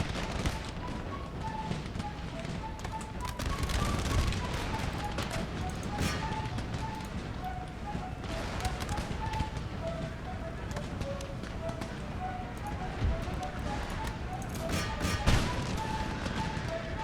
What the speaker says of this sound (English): Their artillery hits are pretty rough.